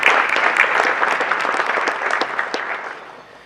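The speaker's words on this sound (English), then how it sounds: "Please give them all a round of applause collectively." Audience applause at a community charity program event, a dense steady clapping from a sizeable crowd that fades gradually toward the end.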